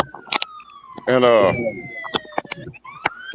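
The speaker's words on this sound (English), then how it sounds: "forget it, sirens." Several sirens wail outside in long sweeping tones behind a barbershop conversation, rising and falling at moderate distance while someone talks loudly over them.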